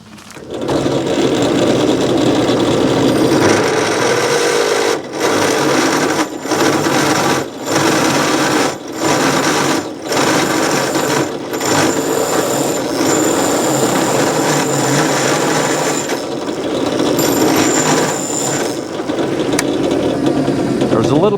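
A drill with a spade bit bores into a piece of firewood, making a loud, close, high-pitched whir broken by brief pauses and a little chattering as the bit cuts downward.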